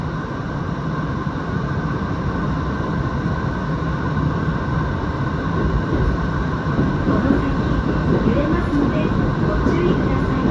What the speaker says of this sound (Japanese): それでは銀座線渋谷発浅草行きの列車に乗車していきたいと思います。